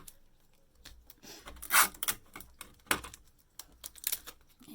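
Adhesive tape pulled and wrapped around a cardboard toilet roll, giving irregular close crackling rips and sticky peels in short bursts, with one louder tearing rasp partway through.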